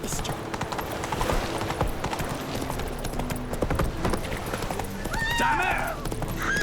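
A horse gallops in The Witcher 3 video game: steady clip-clop hoofbeats run throughout, with a short whinny near the end, mixed under game sounds and a speaking voice.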